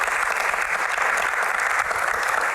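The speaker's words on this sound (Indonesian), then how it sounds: "Tepuk tangan dulu." Audience applause at a televised hajj Q&A event, a dense, steady wash of clapping heard up close, filling the whole moment without any talking.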